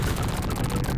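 Rapid gunfire from a hacked Terminator 2 video game bursts out in a dense, continuous stream of quick shots, loud and close for about a second.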